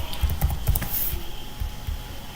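Typing on a computer keyboard: a close run of quick, uneven key clicks and taps lasting a couple of seconds, with no talking over it.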